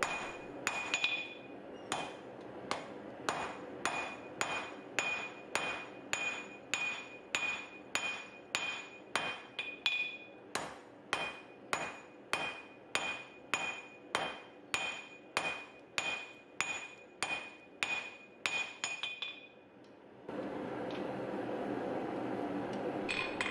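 Hammer blows forging and tapering an iron arm over the far edge of an anvil, a steady run of about thirty ringing metallic strikes at a regular pace, close and loud, ending in a few seconds of hissing background noise.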